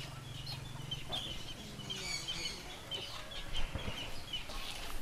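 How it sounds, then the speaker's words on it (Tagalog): Chickens cluck and call on a small Philippine livestock and poultry farm, a continuous low chatter of several birds at moderate distance over a soft background murmur. "Total, nag-aalaga sila ng manok eh, di ba?"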